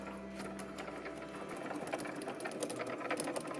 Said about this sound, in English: then it's off to getting cut by the Cricut